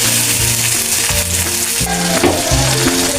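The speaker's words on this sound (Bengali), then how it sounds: "এটা আমি একটু হালকা ভেজে নেবো, এত বেশি ভাজবো না।" Onion greens fry lightly in a pan, giving a loud, close, continuous sizzle with a low steady hum running beneath it.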